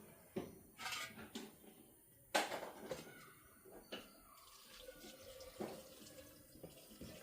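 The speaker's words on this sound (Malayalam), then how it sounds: "കുറച്ച് വെള്ളം ഒഴിച്ചിട്ട് വേഗം വേണ്ടിയിട്ടുള്ള വെള്ളം ചൂടുവെള്ളം ഒഴിക്കുക" Hot water splashes into a cooking pot in a home kitchen, heard faintly as a few separate gushes and clanks of metal cookware, with short pauses between bursts and no talking.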